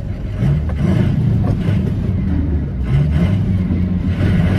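A 700hp 6.0 Powerstroke diesel truck engine drones and revs steadily from inside the cab, a dense low rumble that swells and eases as gears are floated without the clutch.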